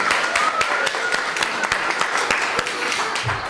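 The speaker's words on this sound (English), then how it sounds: "Give yourselves a clap" A group of preschool kids and adults clap together in a room, with scattered rapid claps forming brief, moderate applause throughout, close and without talking.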